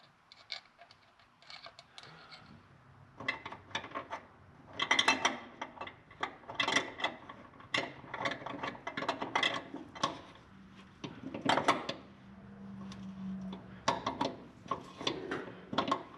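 A large steel tap cutting threads on a Corvair Greenbrier van part: a steady run of close ratcheting clicks and grinding creaks, some louder bursts, with a low hum beneath and no talk.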